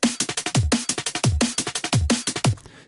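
Neurofunk drum and bass percussion loop playing alone, loud and punchy, with a steady fast rhythm of sharp hits, bright noisy tops and deep booming kick-like thumps repeating in a tight pattern.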